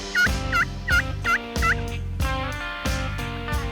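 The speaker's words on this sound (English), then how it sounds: "Gobblers are coming straight in." A wild Osceola turkey gobbler gobbles in quick repeated rattling bursts, several strong gobbles close together over a steady background, clear and fairly near.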